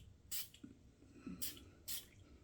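Three quick, soft hissing spritzes of Cuba eau de toilette from a cigar-shaped spray bottle, close and quiet, with short gaps between bursts.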